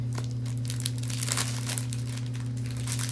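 Paper bags crinkle and rustle steadily near the microphone in a room while a Lego set is built, with a constant low electrical hum underneath.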